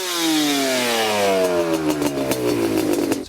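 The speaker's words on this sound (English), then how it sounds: "And then wide open throttle." A 2006 Yamaha Banshee ATV's two-stroke engine is revved at wide open throttle, a loud, close, raspy scream that holds briefly and then winds down steadily in pitch.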